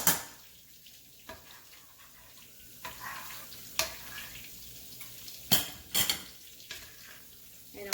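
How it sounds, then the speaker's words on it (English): Pork meatballs deep frying in a pot of oil: a faint, steady sizzle under repeated metallic scrapes and clinks as a ladle strainer stirs and lifts them out. "just kind of scoop them out so that you can keep the oil clean looking as it's still frying"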